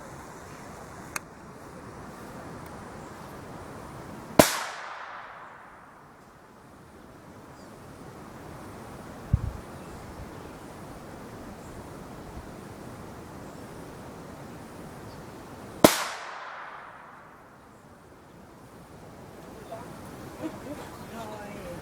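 Two sharp, loud gunshots about eleven seconds apart during an outdoor dog temperament test, each echoing and fading, over a low wind hiss with a faint thump between them.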